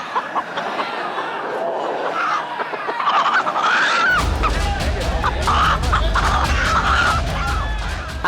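Roosters fight in a Balinese cockfight, with their squawks and calls rising over a busy crowd, and a loud clamour of people breaks out midway.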